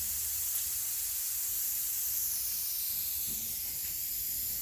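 A SanitOfog single-nozzle water atomization fogger sprays mist with a continuous, even hiss, fairly faint and steady, with no voices.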